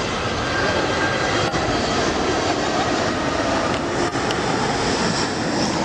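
A toy airplane engine drones steadily and loudly from close by, a constant whirring hum with no pauses and no voices over it.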